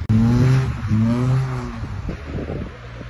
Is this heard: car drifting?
yes